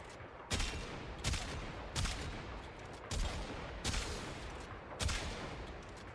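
Kuva Quartakk burst rifle fire in Warframe, six sharp bursts spaced about a second apart, loud and punchy over a constant background hum of game ambience.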